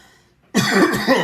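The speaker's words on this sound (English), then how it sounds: "Excuse me, I'm getting a cough." A single close, harsh cough breaks the near-silence, rough and throaty, lasting under a second.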